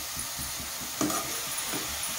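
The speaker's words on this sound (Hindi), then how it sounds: "इसको ऐसे चलाते हुए भून लेंगे थोड़ी देर" Grated bottle gourd for kheer is stirred and roasted in a pan, a soft steady sizzle under rhythmic scraping strokes of a spoon, close and fairly quiet.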